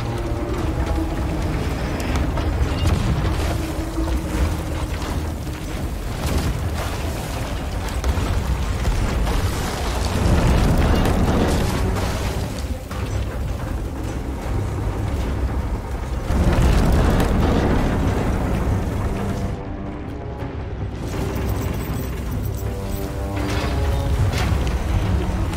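Ship cannons firing during a kraken boss battle in the pirate game Sea of Thieves: heavy booms and rumbling blasts rise and fall over constant creaking and mechanical clatter. No one speaks.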